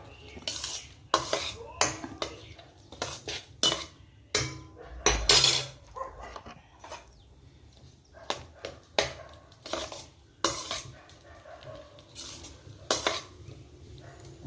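Spoon stirring chopped tomatoes in a metal pot for fish curry, repeated clattering scrapes and knocks at close range with faint sizzling, a voice speaking briefly.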